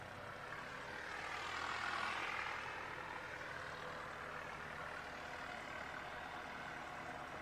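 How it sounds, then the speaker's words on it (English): An ATR turboprop airliner departs Christchurch Airport bound for Wellington, its engine drone and propeller roar broad and fairly distant, swelling slightly and then holding steady as a continuous rumble with no talk. "Another ATR on its way out, heading up to Wellington."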